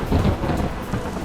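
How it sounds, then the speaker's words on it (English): Thunderstorm with steady heavy rain and low rolling thunder rumbling throughout, loud and enveloping, with no voices. "A terrible storm tore over the shore."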